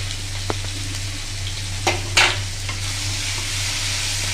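Paneer butter masala gravy being stirred in a pan: a steady soft sizzle with a few brief scraping clicks of the spoon, close and fairly quiet, with no talking.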